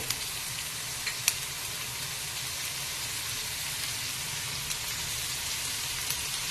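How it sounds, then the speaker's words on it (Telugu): Onions sizzle in hot oil with salt in a pan for pav bhaji, a steady close crackling hiss that continues throughout with tiny pops scattered across it. "ఆనియన్స్ తొందరగా వేగడానికి సాల్ట్ వేసామంటే తొందరగా వేగుతుందండి"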